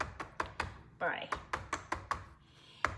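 A pan of Instant Pot fudge brownie batter is tapped repeatedly against a surface to knock out air bubbles, giving a string of about ten sharp, close knocks at an uneven beat, with a faint voice briefly in the middle.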